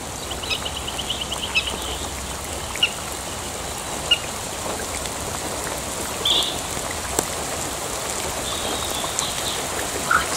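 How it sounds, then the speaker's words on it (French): Steady rain patters down at Hunaudaye castle as a storm arrives, a broad even hiss with a few soft drips and faint distant bird calls over about ten seconds. "Ça, c'est de la pluie qui mouille."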